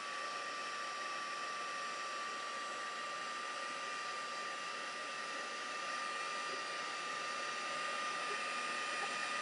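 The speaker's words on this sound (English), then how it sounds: "So a heat gun, hair dryer, whatever you've got." A hair dryer drying air dry clay blows with a steady whooshing roar and a thin constant whine, unchanging and close for the whole stretch.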